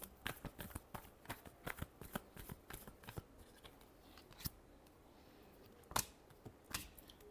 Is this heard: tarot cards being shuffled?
yes